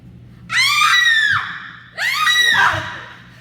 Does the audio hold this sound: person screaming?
yes